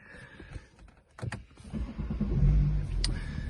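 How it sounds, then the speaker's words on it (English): A BMW 435d Gran Coupe starts up. A few short clicks and mechanical whirrs lead into a rising low engine rumble that settles into a steady idle, heard from close by with no talking. "Now we've got the vehicle started, we can take a better look round."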